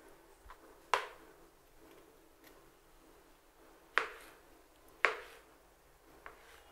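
Three sharp knife chops cut tomato and pepper into large pieces on a cutting board at uneven intervals, with quiet handling sounds between them.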